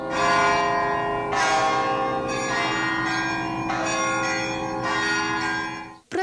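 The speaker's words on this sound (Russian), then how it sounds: "Праздничный звон церковных колоколов раздается по всей округе" Festive church bells ring out loudly from a newly built Orthodox church in a Chechen stanitsa, with repeated full strikes roughly every second over a long, sustained, shimmering ring.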